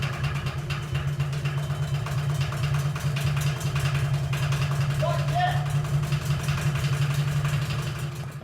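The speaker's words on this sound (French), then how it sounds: "Finalement, on a fait le premier démarrage du moteur." A boat engine on its first start chugs at idle with a steady, rhythmic low thrum that stays even throughout.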